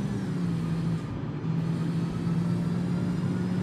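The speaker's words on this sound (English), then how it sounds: "Listen to the turbo." A supercharged, turbocharged car engine in the BeamNG.Drive game gives a steady low rumbling drone with a faint whistle above it, continuous and fairly quiet, with no talking.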